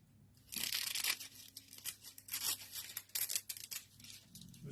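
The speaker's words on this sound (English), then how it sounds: "Let's cut some more foil." Sharp scissors slice through foil sheet with crisp, crinkling tearing sounds in several close, continuous strokes, heard alone at moderate level.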